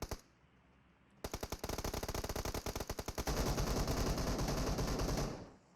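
Rapid automatic gunfire from the PUBG Mobile battle royale game, a steady burst of loud close shots that thickens into a denser, heavier volley before cutting off, with no talk over it.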